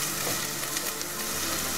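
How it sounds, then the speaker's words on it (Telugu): Chopped onions fry in hot oil in a pan, a dense, loud, continuous sizzle with no talking over it. "ఒక 2-3 ఉల్లిపాయలు ఇలా చిన్న ముక్కలు కట్ చేసుకుని ఫ్రై చేసుకోవాలి."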